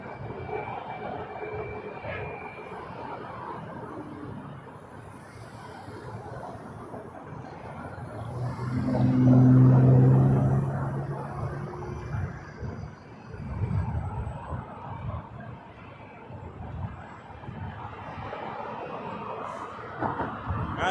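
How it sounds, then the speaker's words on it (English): Flair Airlines Boeing 737 MAX 8 airliner at Toronto Pearson Airport, a broad jet-engine roar that swells to a peak midway and then fades, heard from a moderate distance outdoors. "Alright, Flair, 663 to Abbotsford, British Columbia, 737 MAX 8."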